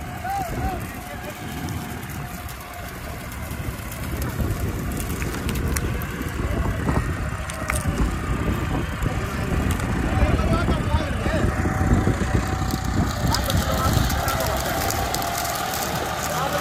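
A diesel tractor engine running and revving steadily near the microphone with a continuous low rumble, its pitch rising and falling slightly over time, with people talking over it.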